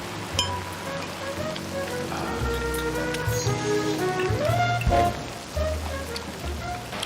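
Steady rain patters on surfaces nearby, a continuous hiss of drops beneath background sounds and tonal chatter, moderately loud throughout.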